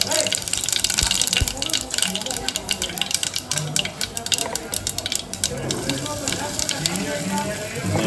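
Tempering of sesame seeds and curry leaves sizzling and spattering in hot oil for Gujarati foj muthiya, a loud crackling hiss with sharp pops scattered through it, close by, with someone talking in places.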